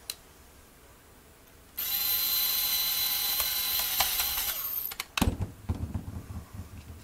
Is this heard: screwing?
yes